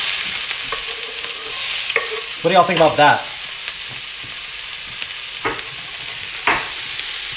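Food sizzles in a frying pan with a steady, hissing crackle throughout, and someone speaks briefly over it partway through.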